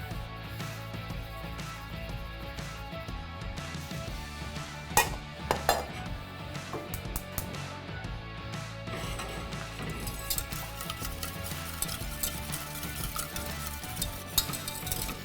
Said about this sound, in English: We're going to whisk it constantly on a medium heat